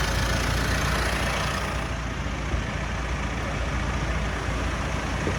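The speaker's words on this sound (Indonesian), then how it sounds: "suara mesinnya apakah normal atau bunyinya udah kasar" A used car's engine running steadily at idle under close inspection, a continuous low rumble with no talk over it.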